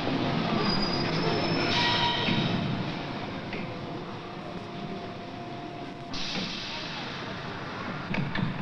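Rotterdam Metro coaches, fitted with electric equipment, run on rails in a steady, loud rumble with squealing wheels and occasional clicks, and no talk over it.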